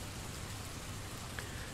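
Steady rain ambience from the game Hadean Lands, a soft continuous hiss of falling drops with a low rumble, even and unbroken throughout.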